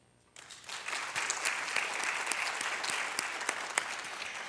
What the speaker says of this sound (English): I want to make sure that I applaud Dr. Phillips for her leadership as well.